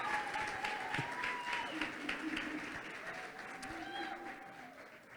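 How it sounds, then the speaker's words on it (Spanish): Faint applause from the audience at a church conference session, soft and diffuse, with a sustained musical tone running underneath it. "Yo quiero que demos un aplauso también por Iván y por Ana"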